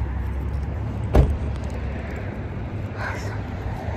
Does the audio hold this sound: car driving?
yes